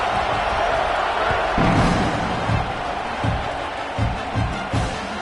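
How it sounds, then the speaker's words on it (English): A college football stadium crowd buzzes and roars after a touchdown, a dense sustained murmur of cheering voices with a few thumping accents, heard without commentary over it. "this crowd is buzzing after that last score."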